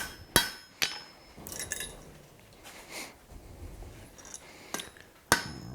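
Hammer blows forging the taper on a steel drift at an anvil, sharp ringing strikes spaced irregularly with a few closer together, quieter scraping and shuffling of the hot stock between them, no speech.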